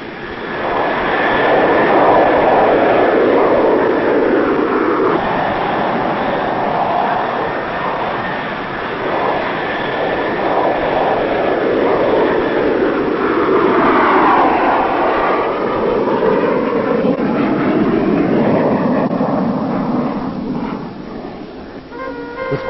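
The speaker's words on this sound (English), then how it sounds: "the Phantom hurtles into the darkness at supersonic speeds" An RAF Phantom jet flies at night at supersonic speed, its loud, steady engine roar sustained throughout with little change in level.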